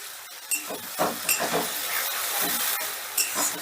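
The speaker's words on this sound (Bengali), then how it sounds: "এবারে গ্যাসের আঁচটা বাড়িয়ে দিয়ে পেঁয়াজটা আমি হালকা ভাজা ভাজা করে নেব" Onion paste fries in a pan over raised gas heat, a bright steady hiss and sizzle broken by a few clinks and scrapes of stirring, close and loud with no talk.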